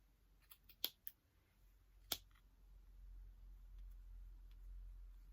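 Scissors snip through the strands up the centre of a piece of knitting in a few quick, sharp, faint clicks. The snips are spread out with quiet pauses between them over a low steady hum.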